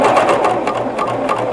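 A sewing machine stitches a T-shirt seam without locking it, a loud, close, continuous rapid whir of the needle for the whole short moment.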